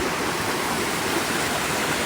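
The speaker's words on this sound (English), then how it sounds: "This is the crossing at the top of the waterfall." Steady, dense rush of a waterfall and brook at the top of Keys Falls on Morrison Brook, heard close and loud as a continuous wash with no voices.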